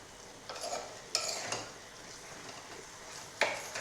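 Beetroot stir-fry for a Kerala mezhukkupuratti being stirred in a pan over high heat, with a few scraping strokes and a soft frying sizzle under quiet background hiss.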